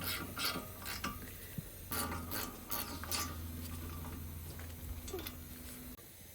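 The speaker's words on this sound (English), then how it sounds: "So just using the power bar here to tighten this." Ratchet or breaker bar tightening a front brake caliper bolt on a 2014 Mercedes A180, a series of quiet clicks and metallic ratcheting strokes against a low background hum.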